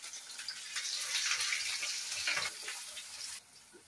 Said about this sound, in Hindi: अब मैं इसमें मक्का डाल देती हूँ।